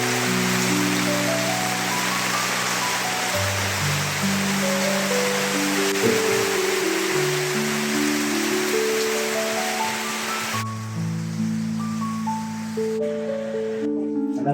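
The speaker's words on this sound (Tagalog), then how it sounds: "So sobrang ulan dito sa Bicol mga kasama. Walang tigil ang ulan mga kasama." Heavy, unbroken rain pours down in Bicol as a steady, loud broadband hiss. Melodic music plays over it throughout, and the rain thins out in the last few seconds.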